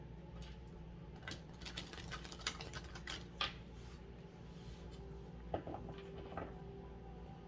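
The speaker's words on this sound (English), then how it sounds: "We have one more shuffle here, and then we'll cut." Tarot cards being shuffled produce a burst of rapid, crisp riffling clicks, then quieter handling and a few soft taps, close up with no talking.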